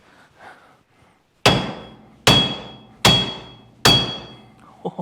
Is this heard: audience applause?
no